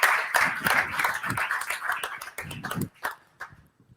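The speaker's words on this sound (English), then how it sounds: "I think this deserves some applause." Audience applause after a finalist's pitch at a startup competition event, loud and dense at first, then thinning into scattered claps with some voices mixed in.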